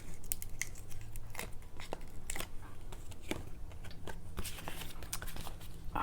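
Backing is peeled off paper card embellishments close up, giving soft crackly rips and short tearing sounds over a steady background hiss, with no talking.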